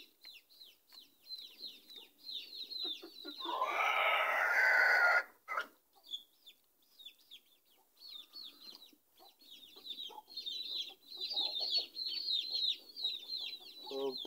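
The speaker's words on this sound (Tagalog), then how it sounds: "pasensya na mo sa among mga manok guys kay banha sila guys" Noisy backyard chickens cluck and cackle almost nonstop, with one loud squawking burst in the middle, close by and unbroken by talk.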